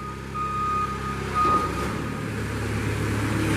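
A 2012 Moffett M55.4 truck-mounted forklift drives back and forth with its hydraulic pump running, giving a steady engine and hydraulic drone with a tonal whine and a reversing beep, close and continuous with no talk.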